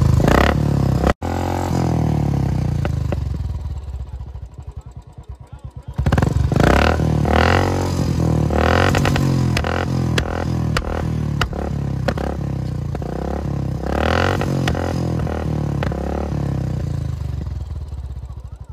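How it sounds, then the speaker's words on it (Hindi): Royal Enfield Classic 350 motorcycle engine revving hard in repeated bursts, a loud, close mechanical roar with clattering, rising and falling throughout. "तो भाई साहब यही है रॉयल फील्ड का"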